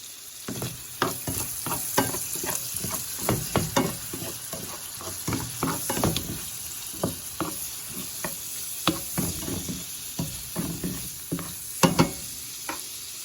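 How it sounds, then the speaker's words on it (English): Shrimp fry in oil with big pieces of garlic and a little butter, a continuous crackling sizzle broken by the scrape and tap of a utensil stirring, close by and without speech. "I like my shrimp almost black with the oil. I'm going to add a little bit of butter."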